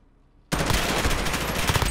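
An M4 rifle in Call of Duty Modern Warfare opens up after a brief quiet moment, then fires as a loud, sustained, rapid automatic burst that runs to the end.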